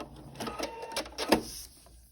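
A sewing machine stitches a foundation paper pieced log cabin quilt block, giving a steady mechanical whir with a brief louder burst partway through before it quiets near the end.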